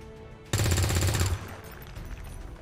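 Gunfire from a soldier's weapon in the XCOM 2 video game: one loud, rapid burst of automatic shots lasting under a second, then a lingering tail, with no talking over it.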